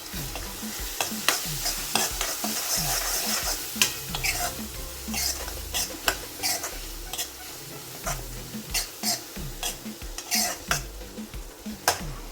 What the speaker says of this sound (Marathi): बारीक चिरून घेतलेला कांदा घालून परतून घेत आहोत